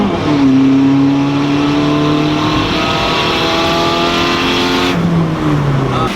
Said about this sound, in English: Do you also notice the blow-off valve sounds better when you have more boost?